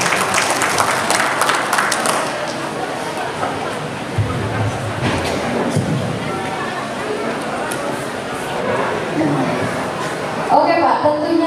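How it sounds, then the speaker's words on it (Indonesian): Applause from a talk show audience at a community gathering event, a broad wash of clapping sustained for several seconds with crowd murmur mixed in, tapering near the end. "Tepuk tangan buat acara silaturahmi ini"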